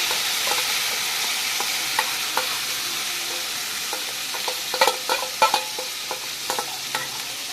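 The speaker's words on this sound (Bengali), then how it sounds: "মশলাটা দিয়ে দিলাম। এবার খুব ভালো করে নেড়ে নিচ্ছি।" Spices sizzle in white oil in a kadai, with a steady hiss and scattered scraping clicks of a spatula stirring them, loud and close, with no talk.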